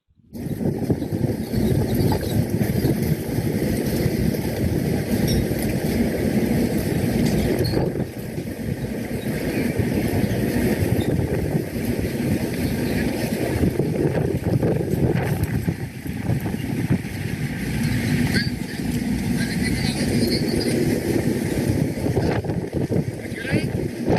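Steady roar of strong wind buffeting the microphone at an Orkney harbor with a ship in port, with faint boat and mechanical noises underneath, continuous and loud throughout.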